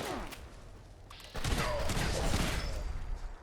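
A Gauss shotgun fires in Fallout 76 with one sudden heavy blast, then a dense, rumbling crackle that holds loud for about two seconds after a quieter lead-in.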